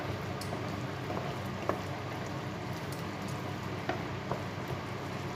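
Chicken breast stirred in a morel mushroom sauce in a pan, a steady bubbling simmer with occasional soft spoon scrapes and clicks, close and moderately quiet, no talking.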